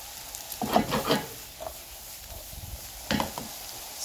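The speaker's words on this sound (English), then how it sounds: "This is just to let the vegetable sweat a little bit and to give the natural caramelization flavor. You just need to do that for 2 minutes at high heat." Mixed vegetables sautéing in a hot pan at high heat for a ham and vegetable quiche, with soft sizzling and a few stirring scrapes in short bursts near the start and again near the end.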